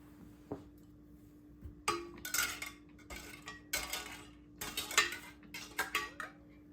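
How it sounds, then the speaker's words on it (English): Metal lids and screw rings clink and rattle against glass canning jars in several short bursts of handling, close and fairly quiet, during home pressure canning of dry beans. "I'm going to put the lids and ring on"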